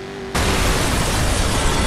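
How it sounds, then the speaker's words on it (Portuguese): A sudden, loud explosion bursts in Watch Dogs on PlayStation 4, cutting in after a quiet moment and leaving a dense, roaring rumble that fills the rest of the moment with no voices. "explosão aqui, tudo ferrado"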